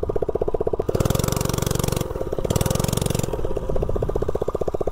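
Unmuffled mini bike engine running with no exhaust, a loud, rapid, raspy popping that revs up and down in surges close by.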